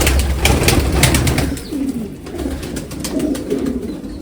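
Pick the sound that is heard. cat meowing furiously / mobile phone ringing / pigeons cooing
pigeons cooing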